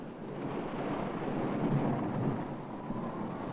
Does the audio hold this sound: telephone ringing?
no